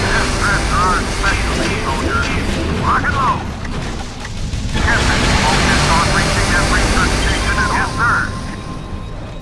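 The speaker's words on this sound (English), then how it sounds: "Looks like a jet" A jet aircraft roars overhead in the game Anomaly 2, a loud sustained rumble that dips briefly then swells again, with a voice talking over it.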